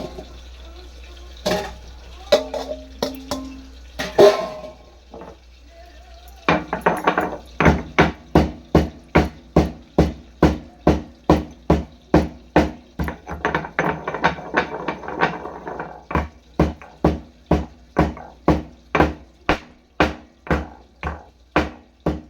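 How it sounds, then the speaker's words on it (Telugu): Grated coconut pounded in a stone mortar for a drumstick curry, a steady run of loud, close thuds at a regular rhythm after a few scattered knocks and kitchen clatter. "తురుము పెట్టుకొని కొబ్బరి అయితే దంచుకుంటాను"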